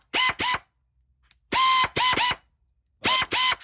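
Snap-on and Maco quarter-inch stubby air ratchets rattle in loud, close bursts that come in pairs. Two short runs are followed by a pause, then three runs, then two more, each a harsh mechanical whirr with near silence between.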